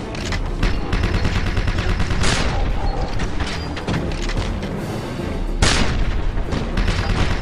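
Gunfire in Wolfenstein aimed at a wall, with loud sustained automatic bursts and booming impacts that break off briefly and then resume, close and dense throughout.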